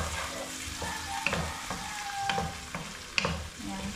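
Sweet corn sizzles steadily in butter in a pan, with a spoon stirring and tapping in sharp clinks over the continuous close frying hiss.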